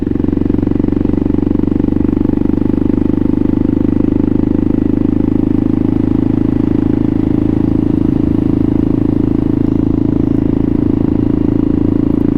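A Kawasaki KLR650 motorcycle ridden on the road, its engine a steady, loud drone that holds an even pitch from start to finish with no break.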